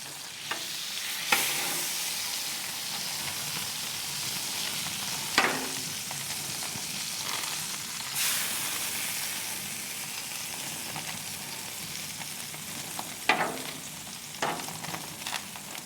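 Whiskey-marinated Jack Daniel's strip steaks sizzle steadily on a Blackstone griddle, a loud continuous hiss broken by a few sharp spatula scrapes and flare-ups, close and without talk.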